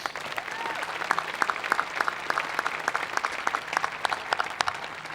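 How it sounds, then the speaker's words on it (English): Audience applause at the Westford Academy Class of 2013 graduation ceremony after the band's performance, a fairly quiet, sustained patter of many hands clapping in a large venue. "And a big round of applause for Mr. Arsenault for leading this band today, please."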